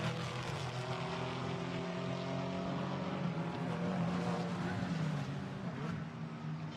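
GT4 race cars at the Imola circuit, engines droning steadily as they climb over a brow during a race, a continuous muffled roar heard from a distance.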